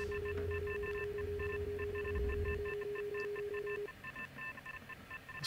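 A cockpit warning alarm in a flight simulator repeats as steady electronic tones, with a sustained beeping pattern that continues for several seconds over low engine hum, then cuts out, leaving faint rumble.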